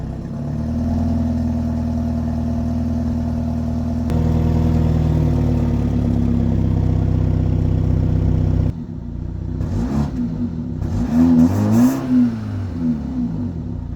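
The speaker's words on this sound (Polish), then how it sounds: "posłuchajcie jak brzmi wydech" A BMW 330e xDrive Touring G21 idles with a deep, steady exhaust rumble, then revs a few times with rising and falling throaty bursts.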